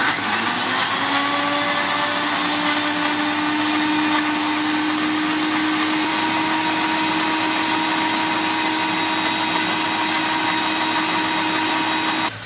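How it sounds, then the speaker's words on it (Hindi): A mixer grinder whirs loudly and steadily as it grinds tomato chutney, its motor holding a constant high whine for the whole stretch before cutting off at the very end. No one speaks. "और अब ये फिर से पीसने जा रहा है।"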